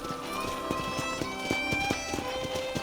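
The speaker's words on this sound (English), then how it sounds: "let's see if you can still ride a horse." Horse hooves clip-clop at a steady riding rhythm in the Red Dead Redemption: Undead Nightmare video game, close and clear over a constant bed of game music and ambience.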